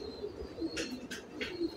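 A keeper's pet pigeon coos softly in low repeated notes, joined by a few short sharper calls or wing sounds near the middle, close and fairly quiet with no talk.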